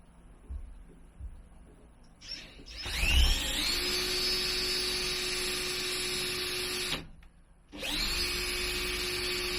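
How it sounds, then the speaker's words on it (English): Power drill boring into a campervan ceiling: a faint tap, then the motor spins up to a steady high whine for about five seconds, stops briefly and starts again, close and loud in a quiet interior. "I've set my drill bit so it won't go through the roof"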